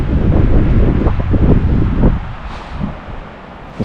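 Strong gusting wind on a mountain top buffets the microphone with loud low rumbling bursts, easing slightly toward the end, with no voices.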